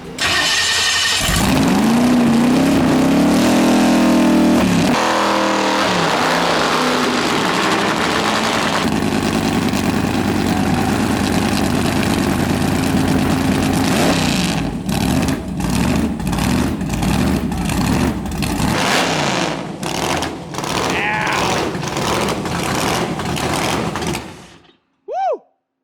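A 1970 Boss 429 Mustang with a blower starts and runs loudly, a heavy rumbling idle with rough surges and revs, close and dominant throughout before cutting off near the end.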